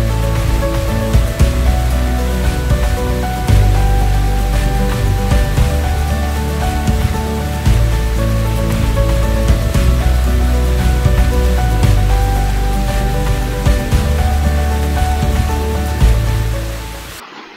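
The Bua Tong waterfall in Chiang Mai, a single cascade over several tiers, pours with a steady rushing, splashing roar, close and constant with no talk.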